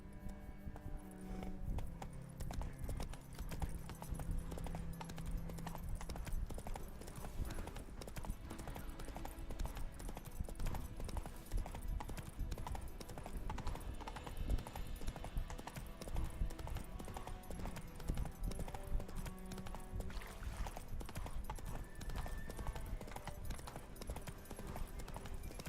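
Hooves clip-clop steadily as a horse gallops in the video game The Witcher 3, a continuous rhythmic pounding with some low rumble and game ambience underneath.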